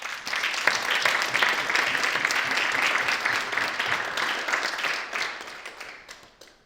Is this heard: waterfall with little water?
no